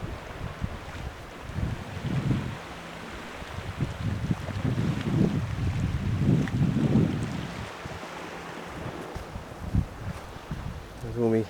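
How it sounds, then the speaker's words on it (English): Water near a wild camp on an island, heard as a steady washing wash with low rumbling surges, mixed with heavy wind buffeting the microphone throughout. "You'll probably guess where I am because you can probably hear water."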